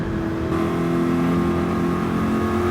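Race cars, including a Lancer, drive and rev in Gran Turismo 7, with a loud, steady engine drone holding throughout and swelling slightly as the revs climb.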